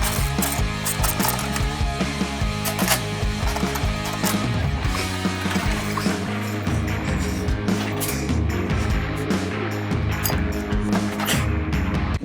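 A hand ratchet clicks away while parts come off the rear of a Harley-Davidson Sportster, rapid metallic pawl ticks in repeated bursts with clanks of tools and metal parts, close and steady throughout.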